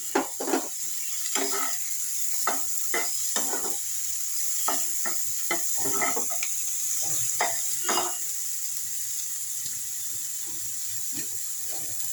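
Chopped tomato fries in a pan with butter and onion for vegetable soup, a steady sizzle broken by repeated close scraping and clinking of a spatula stirring against the pan.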